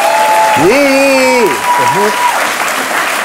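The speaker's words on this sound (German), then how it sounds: "Kleinen Applaus, Sarah Lisa Volm." A studio audience applauds guest Saralisa Volm on a German TV comedy show, steady dense clapping filling the whole moment while a voice speaks briefly over it.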